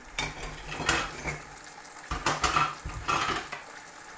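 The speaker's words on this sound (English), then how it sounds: "Wooden spoon in the frying pan." A wooden spoon scrapes and knocks around a frying pan in uneven strokes, with a few sharper clatters, close by and with no talking.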